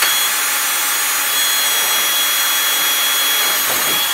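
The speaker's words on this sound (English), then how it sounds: "Drill into the panel, one layer only." A drill bores through one layer of a panel, a harsh, steady grinding hiss of the tool biting into material, close and loud, running for a few seconds before easing off.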